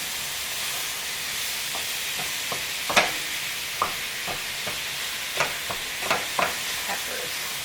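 Onion and garlic frying in a pan: a steady, loud sizzle and hiss runs throughout, broken by scattered crackles and pops and occasional stirring scrapes, with no voices.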